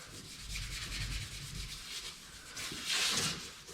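Gray Scotch-Brite pad rubbed along a sanded edge of a 1969 Chevelle body, making a close, dry scuffing sound in repeated strokes that rises into a louder rasp near the end.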